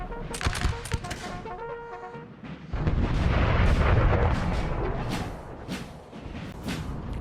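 Prussian artillery on a hill fires in Napoleon Total War's 1814 Battle of Gué-à-Tresmes, with sharp cannon booms and crackling musket volleys at first, then a dense, rumbling barrage of blasts rolling on continuously.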